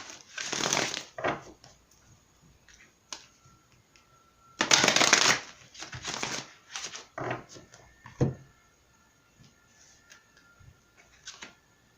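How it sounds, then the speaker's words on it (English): Oracle cards are shuffled and pulled in a tarot-style reading, giving brisk papery riffles in a few loud bursts, with softer card slides and taps between them and a voice speaking at moments. "let's go ahead and pull some more cards here to see what's going on with these energies"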